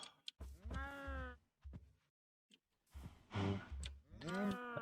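A water cow in the Minecraft Stoneblock 2 modpack moos several times, long drawn-out lowing calls in three separate bursts with short gaps between, heard clearly and fairly close.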